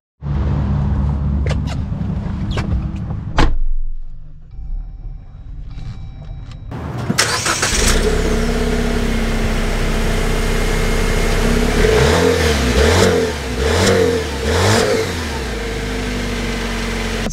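A modified Jeep Wrangler Rubicon with a TeraFlex swap: a few clicks, then the engine cranks and catches, settling into a steady idle before revving and pulling away, with rising and falling engine tones as it accelerates through gears.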